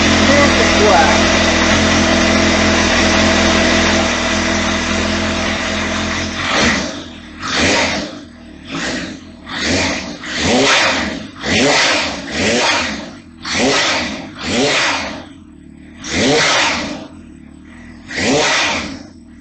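Kawasaki Ninja H2 motorcycle just back from repair, a steady engine drone that gives way to about a dozen sharp, evenly spaced revs, loud and close.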